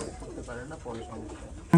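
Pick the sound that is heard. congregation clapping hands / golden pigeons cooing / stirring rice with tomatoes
golden pigeons cooing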